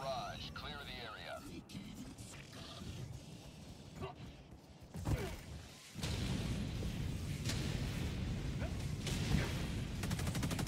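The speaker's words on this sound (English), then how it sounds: "Firing orbital barrage." An orbital barrage strike in Helldivers 2 lands as a rumbling, sustained roar of distant explosions and booms that swells louder partway through, with voices talking over it.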